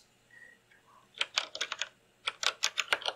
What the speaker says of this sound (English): And then we want to type in Christian